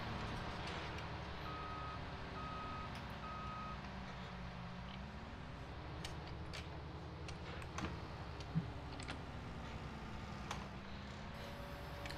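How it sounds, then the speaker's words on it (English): A farm vehicle in Farming Simulator 19 gives off steady, faint ticking reversing beeps over a constant engine drone during silage carting, with no speech. "I forgot this thing beeps every now and again."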